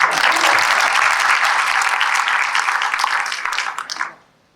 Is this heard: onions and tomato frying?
no